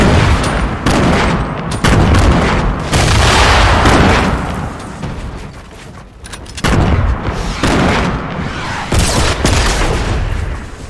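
Rocket blasts from a quad launcher in Fortnite burst out loud and repeatedly, a dense barrage of booming explosions that crowd together and swell across the whole stretch with only brief dips.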